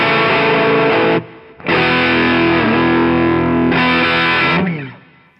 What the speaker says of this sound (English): it is sending the amp into a really nice, crispy distortion